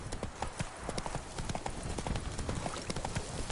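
Roach, Geralt's horse in the video game The Witcher 3, runs with rapid, steady clip-clopping hooves, close and continuous throughout.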